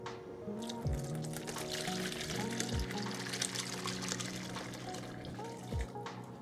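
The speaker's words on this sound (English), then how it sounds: "let's drain this so we can have a little splash of the juice to put in here" Juice drains from cooked pork in a low FODMAP meal prep kitchen, a soft steady pouring trickle with faint clinks, quiet and close.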